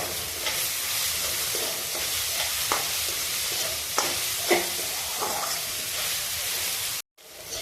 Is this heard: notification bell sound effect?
no